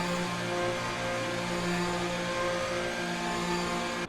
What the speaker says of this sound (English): So we can hear some engines starting up. And it's going to be a Ferrari